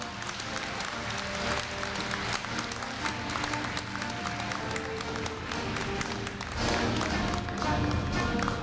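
Applause at a 2015 Korea University freshman entrance ceremony, sustained clapping from a large audience in a hall, with a swell toward the end mixed with background music.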